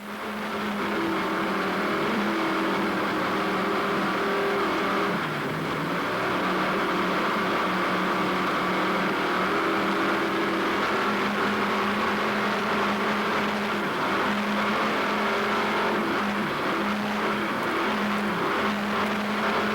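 A 35-foot racing powerboat, Hot and Nasty, roars steadily under full throttle from on board, with a dense, continuous engine drone and rushing water and wind noise throughout.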